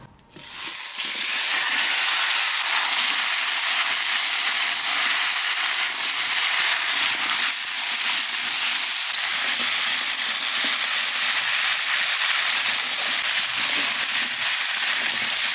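Vegetables, pumpkin and Malabar spinach going into a cooking pan, hit hot oil with a sudden loud sizzle that settles into a steady, dense frying hiss, close and continuous, with no talking.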